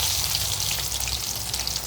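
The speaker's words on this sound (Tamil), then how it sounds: "பாருங்கள் காய்ஸ், நல்லா ஃப்ரை ஆகிட்டுருக்கு காலிஃப்ளவர்." Cauliflower florets fry in shallow oil over low heat for a chilli dish, a close, dense and steady sizzle with fine crackling throughout and no voices.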